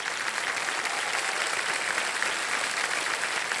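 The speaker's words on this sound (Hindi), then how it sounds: "एक जोरदार तालियां बज जाएं" A studio audience on the quiz show Kaun Banega Crorepati bursts into strong, continuous applause for a contestant who is a yoga teacher, a thick even wash of clapping that holds steady throughout.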